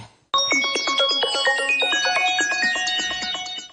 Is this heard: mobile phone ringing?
yes